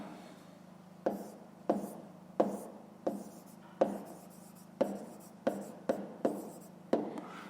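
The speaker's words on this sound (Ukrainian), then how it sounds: "зараз тоді записуємо відповідь. Пишемо відповідь." A pen writes an answer in a school maths notebook, producing a series of about a dozen short, crisp scratching strokes at irregular intervals, close and fairly quiet against a faint steady hum.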